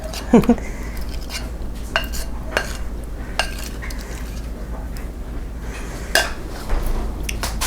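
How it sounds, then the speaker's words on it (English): Apple pie filling is scraped from a bowl into a pie crust. Repeated utensil clinks and soft wet scraping sound over a low steady kitchen hum. "Then we're gonna just dump that into our pie crust"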